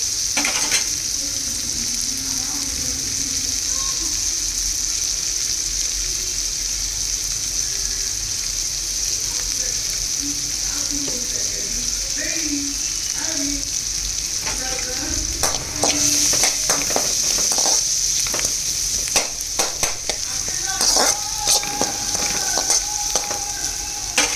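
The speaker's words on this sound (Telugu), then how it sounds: "ఇవి కొంచెం ఫ్రై అవ్వాలండి." Green chillies sizzle and fry in a pan while palak paneer is cooked, a steady soft crackle with occasional stirring scrapes and clinks, close and continuous, no talking.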